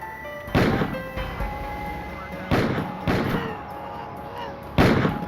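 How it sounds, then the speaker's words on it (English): Gunshots fired at close range at a patrolman in a police cruiser on a street, four sharp loud reports at uneven intervals that ring out briefly, with faint background tones between them. "He shot the patrolman 4 times at close range."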